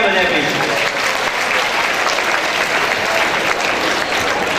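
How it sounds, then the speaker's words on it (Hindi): An audience at a talent award ceremony in Hanumangarh applauds the girls being honoured, producing dense, steady clapping that fills the whole stretch at a loud, even level, with voices mixed into the crowd noise. "बच्चियों के लिए तालियां बजाते हैं"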